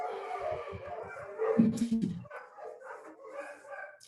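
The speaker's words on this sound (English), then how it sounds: "I was pausing for the dogs, but they're not going to stop." Dogs barking and yipping outside a cafe, a run of quick barks that rise into a louder howling burst before fading, while a person talks through and after it.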